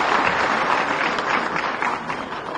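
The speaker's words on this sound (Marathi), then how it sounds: "जोरदार टाळ्या वाजवून त्यांचे आपण" A crowd at a Nagpur district gathering bursts into loud, sustained applause for Chandrashekhar Bawankule, a dense even wash of clapping throughout.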